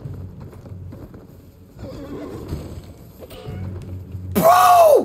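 A horse in the video game Elden Ring gives a loud, close whinny near the end, after a stretch of quieter hoof clops and low rumbling, with no speech over it.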